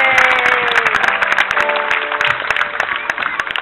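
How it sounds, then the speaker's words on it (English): Crowd clapping at a sea lion show at Pleasurewood Hills: a steady, fairly loud patter of many hands across the whole clip, with cheering voices and a whistle-like tone mixed in. "They'll clap for you."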